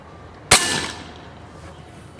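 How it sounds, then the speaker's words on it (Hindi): A single sharp, loud crack from a Kral Puncher Breaker .22 synthetic air rifle being fired, followed by a brief fading ring, then quiet. "इसको मैं लोड किया है तो फायर करके देखते हैं।"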